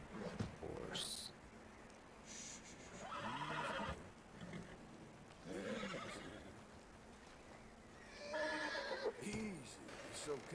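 A horse in the video game Red Dead Redemption 2 whinnies and snorts several times, loud and close, with hoof clatter and a voice talking between the calls.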